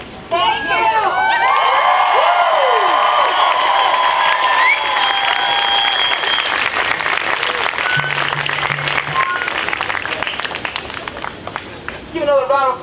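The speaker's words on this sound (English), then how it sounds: "Give another round of applause to Heidi." An outdoor crowd at a climate strike rally breaks into loud applause, cheering and whoops that are sustained and close. Excited shouts and voices mix into the clapping before it thins out near the end.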